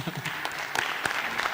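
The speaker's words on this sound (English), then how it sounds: "You guys, I think this requires an applause" Brief applause from a forum session audience, dense clapping over about a second and a half, fairly quiet and somewhat distant in a conference hall.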